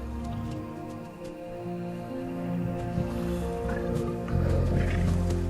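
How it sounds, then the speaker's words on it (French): Young lions in the wild at night, a low rumbling growl and deep moaning calls, close and sustained, rising into a louder, rougher roar toward the end with some scuffling. "Les jeunes lions sont prêts à entrer en action."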